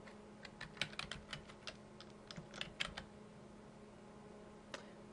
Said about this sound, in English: Now we'll go back up to line 4 and type in the actual city and state.